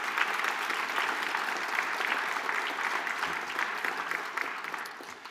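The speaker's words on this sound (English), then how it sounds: "A big round of applause for all of you and all that you do." An audience at a talk on Ontario's transportation future applauding, a steady wash of many hands clapping at moderate distance for about five seconds, gradually tapering off.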